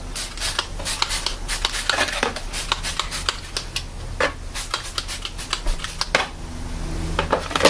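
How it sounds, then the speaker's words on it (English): A household fan is wiped down with Windex and a cloth towel, making a rapid series of brisk rubbing and swiping strokes up close, uneven in rhythm. "I'm just going to clean this with some Windex"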